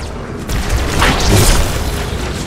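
A grenade explosion in Halo 2, a loud, close booming blast that swells and rumbles for a couple of seconds amid dense game noise.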